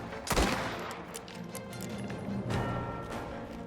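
Gunfire in the video game Mafia during a shootout, with several sharp shots at irregular intervals over a steady background of game noise, the strongest burst early and another near the end.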